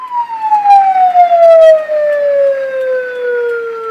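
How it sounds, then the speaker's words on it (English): An ambulance siren in Kasese sounds loud and close, a single long descending wail with strong harmonics that sweeps downward and steadily fades over a few seconds. "the ambulance is stuck at the gate for some time"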